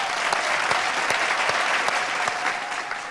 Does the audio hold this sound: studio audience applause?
yes